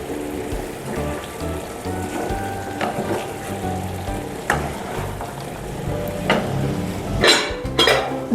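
Potato and pumpkin curry frying with cumin powder, a steady sizzle under gentle stirring, with the spatula clinking and scraping the pot at intervals and a few sharper metallic knocks near the end.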